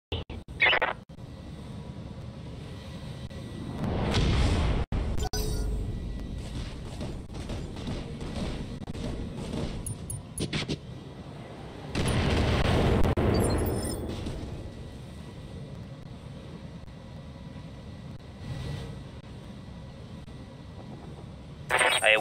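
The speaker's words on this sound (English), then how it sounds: "We're firing some artillery." Artillery barrages and explosions in the BattleTech video game, two big rumbling booms swelling and fading about eight seconds apart over a constant low battle hum, with scattered sharper impacts between; no talk.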